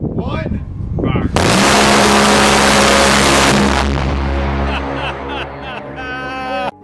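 An A-10 Warthog's GAU-8 Avenger cannon fires at about 70 rounds per second, a loud, tearing burst that lasts roughly two seconds, followed by a lingering jet-engine roar.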